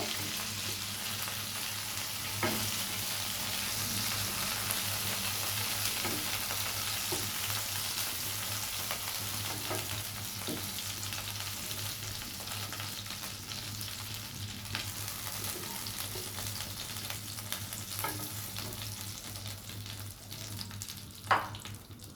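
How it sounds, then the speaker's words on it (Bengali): Tilapia pieces sizzle steadily in hot oil in a pan, a close, even crackling hiss broken by a few faint taps and one louder clink near the end, with no one speaking. "মাছগুলো ভাজা হওয়া পর্যন্ত একটু অপেক্ষা করব"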